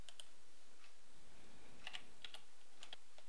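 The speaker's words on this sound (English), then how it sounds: "type msconfig inside the search box" Several short bursts of computer keyboard typing on a Windows 7 PC, quiet and close, a few quick clustered keystrokes with pauses between, no speech.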